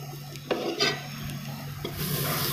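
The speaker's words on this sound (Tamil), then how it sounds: "இது கருகிராமல் நல்லா வணக்கி விட்டுக்கோங்க." Masala is sautéed in a pan for a paneer sandwich, giving a soft, steady sizzle with a few scraping stirs of a spatula close by and no talking.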